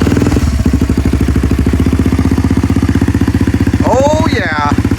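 A Kawasaki KLX230 with a HiVolt ECU tuner on its race tune fires up and settles into a loud, close, steady single-cylinder idle with a rapid, even pulse. A voice speaks briefly near the end.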